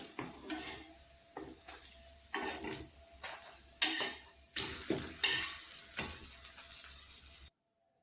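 A healthy tiffin flipped and cooked on both sides in a pan gives a steady close sizzle, broken by repeated scrapes and stirring clatter from a spatula against the pan, before cutting off abruptly.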